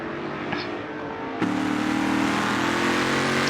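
Race car engine in Forza Motorsport 7 at Mugello, droning steadily before a sharp gear shift drops the pitch and the engine pulls harder and louder, revving up again close by.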